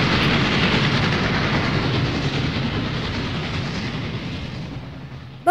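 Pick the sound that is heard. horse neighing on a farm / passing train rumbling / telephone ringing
passing train rumbling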